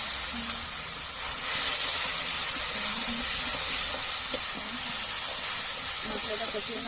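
Spice paste with turmeric and salt hisses and sizzles steadily in a hot pan after a splash of water goes in, cooking for a kuche (mud eel) fish curry; a continuous close, moderately loud frying hiss.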